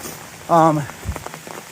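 Steady rain patters on a tent on a cold morning along a river trail, with a short tonal voice-like sound rising over the drops near the start.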